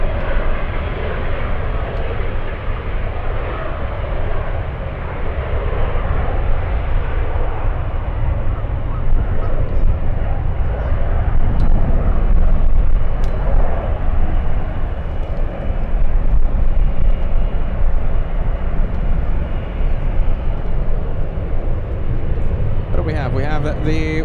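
A VistaJet business jet flying out toward Houston gives a continuous broadband engine roar that fills the whole stretch, with a voice faintly audible underneath.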